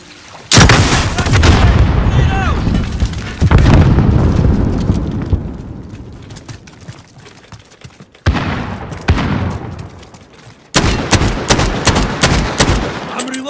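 Dense gunfire from Call of Duty: Modern Warfare (2019) team deathmatch on Hovec Sawmill, loud bursts and rapid shots in several intense stretches with short lulls, and in-game voices calling out under the shooting.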